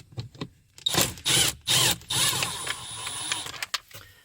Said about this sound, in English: To speed it up, I will use my power tool